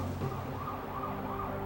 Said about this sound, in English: they ignore the police officer's screeching siren